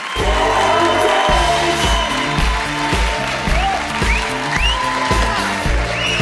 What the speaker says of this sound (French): Allez-y, on commence à applaudir.